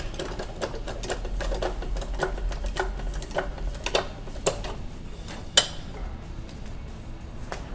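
Ratchet wrench clicking steadily as it turns a self-tapping nut during front shock absorber replacement on a Fiat Panda 169, a fast even run of close, fairly soft ticks with one sharper clink near the end.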